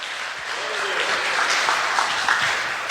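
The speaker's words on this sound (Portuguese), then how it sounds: "levante a mão e aplauda ao Senhor bem forte" A church congregation claps loudly and steadily together during a worship service, a continuous wash of applause with a few sharper claps rising out of it.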